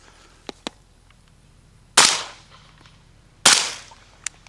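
Two sharp rifle shots from an M16A2 with a 20-inch barrel fired through an Otter Creek Labs Infinity 556K suppressor, each a loud crack with a short decaying tail about a second and a half apart, plus a few small clicks.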